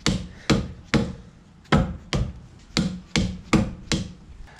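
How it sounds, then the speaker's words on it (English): A soft mallet knocks the leg of a Honda BF30 four-stroke outboard motor loose, striking nine dull, close thuds at a steady uneven rhythm about half a second apart. "I'm just using a soft mallet just to separate the leg."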